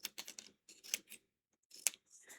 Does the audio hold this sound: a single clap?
no